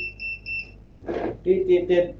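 An electronic device gives three short high beeps in an evenly spaced row at power-up, then a voice speaks and imitates the beeping.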